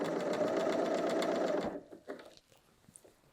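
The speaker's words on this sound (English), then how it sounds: "So just start sewing. Making sure you're evenly stretching the neckband to fit." A sewing machine stitches a stretched knit neckband onto an airy knit top in a steady fast whir for about a second and a half, then stops, leaving only faint handling sounds.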